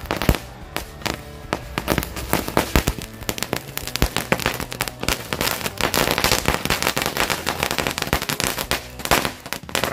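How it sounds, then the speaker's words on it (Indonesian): Green Lighting firecracker fireworks crackle and pop in a dense, continuous barrage of sharp bursts lasting about ten seconds, loud and close with no talk. "Mercon green lighting berhasil menyala teman-teman."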